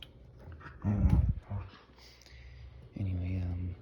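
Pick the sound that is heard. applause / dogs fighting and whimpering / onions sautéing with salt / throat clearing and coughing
dogs fighting and whimpering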